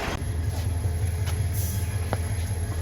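A passenger train rolls along toward Nazirhat, a steady low rumble with rhythmic wheel-and-rail clatter and a faint high whine, heard continuously from inside the carriage.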